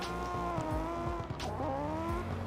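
Two drift cars accelerate hard side by side at a drift series event, engines roaring and tyres squealing in a dense, loud, continuous blend with shifting pitch.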